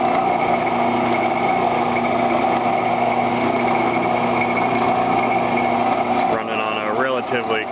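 An electric drill press motor starting up and running at speed, a steady close whine and hum that shifts near the end.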